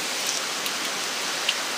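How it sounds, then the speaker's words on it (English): Dense, heavy rain pours down in a steady hiss, with a few distinct drops standing out now and then. "this is just a huge torrential downpour"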